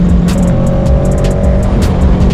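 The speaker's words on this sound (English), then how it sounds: "Actually hit the rev limiter on the first gear." A 2020 Kawasaki Ninja 650 motorcycle accelerating hard in first gear up to its rev limiter: a loud, close, continuous engine roar with a sustained high drone and bursts of wind noise, no talking.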